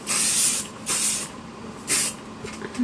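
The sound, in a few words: hairspray being sprayed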